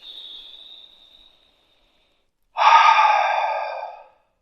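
Slow, deep breathing during a guided relaxation: a soft, fading exhale, a pause of silence, then a louder, close breath lasting over a second.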